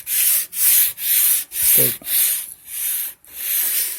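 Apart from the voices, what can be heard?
sanding wood trim with a Velcro sandpaper block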